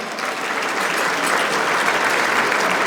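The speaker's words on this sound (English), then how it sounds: "Give yourselves a round of applause for being here today." An audience at a town State of the Town ceremony breaks into a dense, loud, sustained round of applause that stays even from start to finish.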